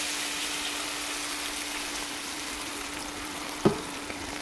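Meatball sauce simmering in a pan gives a steady, soft bubbling sizzle throughout, with one brief louder clink or stir near the end and no talking.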